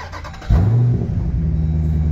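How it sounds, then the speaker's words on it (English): A 2015 Jeep Grand Cherokee SRT engine starts with a sudden loud crank and catch, flaring briefly before settling into a deep, steady, close rumbling idle. "I just want to start the engine for you, just so you can get an idea of what it sounds like"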